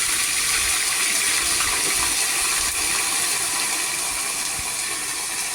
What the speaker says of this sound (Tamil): நம்ம மிக்சியில் அரைச்சி வச்ச வெங்காயத்தை அதில் அப்படியே ஊற்றிக்கலாங்க